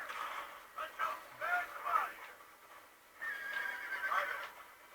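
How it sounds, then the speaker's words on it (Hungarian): Horse whinnies and neighs in the video game Red Dead Redemption, several close, loud calls in a row with faint hoofbeats underneath, no talking. "Lovak, ugyanúgy lehet szerezni benne lovat,"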